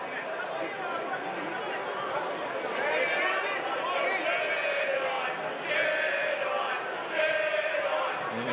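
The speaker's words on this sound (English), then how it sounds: "I'm sure you can hear through the microphone effects, the crowd shouting Jedi" Boxing crowd in an arena chanting "Jedi" during a Paul Ben vs Matt Floyd fight, a rough babble of many voices with rhythmic rising shouts over a steady hum.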